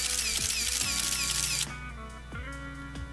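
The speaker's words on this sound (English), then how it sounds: "I click the shutter, entranced, again." Camera shutter click in the visual novel Sonicomi, a single sharp mechanical snap that ends a bright music passage, with background music continuing at close, clear level.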